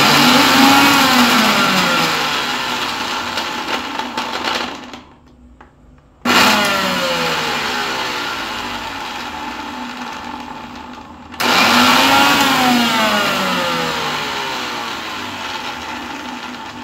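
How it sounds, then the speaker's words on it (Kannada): Mixer grinder coarsely grinding green chillies for cashew vada, running in three loud whirring bursts separated by brief pauses, each burst starting with a sharp surge and settling into a steady whine. "ಇದನ್ನು ಈಗ ರುಬ್ಬೋಣ. ತೆರೆಯಾಗಿ ರುಬ್ಬು, ಜಾಸ್ತಿ ನೈಸಾಗಿ ರುಬ್ಬೋದು ಬೇಡ."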